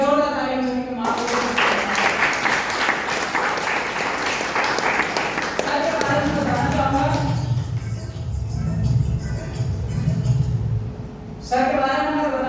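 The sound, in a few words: audience applause at meeting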